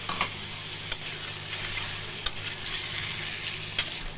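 Onion, spice paste, tomato and chillies fry in a pan while being stirred, a steady sizzle broken by a few sharp scraping knocks of the spoon; no one speaks.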